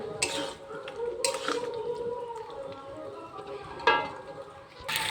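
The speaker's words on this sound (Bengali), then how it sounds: "এরপর এর মধ্যে দিয়ে দেব ভেজে রাখা পটল। এই দুটোকে এবার ভালো করে কষিয়ে নেব।" Pointed gourd and potatoes being stir-fried in a pan, with a spoon scraping and clinking against the metal in a few sharp bursts over a low, steady sizzle, close up.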